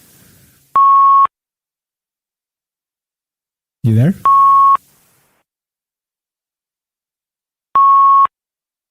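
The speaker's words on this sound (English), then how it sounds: "what's the beeping? You beeping?" Three clear electronic beeps spaced a few seconds apart, each a steady sustained tone, likely an incoming call alert; someone briefly speaks between the first and second beeps.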